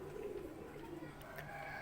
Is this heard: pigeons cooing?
yes